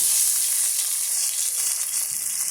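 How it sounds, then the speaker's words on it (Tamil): Crushed shallots and garlic frying in hot oil in a pan, a steady, close, bright sizzle that holds evenly throughout with no voices. "பாருங்கள், நல்லா பொரிஞ்சு வருது."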